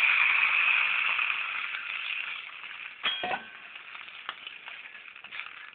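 Water poured into a hot tempering pan of fried spices for tomato rasam sizzles loudly at first, then gradually dies down, with a brief metallic clink of a vessel partway through.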